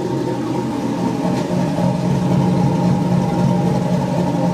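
Corvette Z06 with a newly installed motor idling close by, a steady, dense low rumble holding level throughout with no voices.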